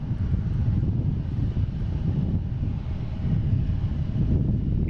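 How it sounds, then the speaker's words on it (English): American Airlines airliner arriving from Chicago at Boston Logan, a steady loud rumbling jet roar with wind buffeting the microphone throughout, no voices. "Here we have American Airlines coming in from Chicago"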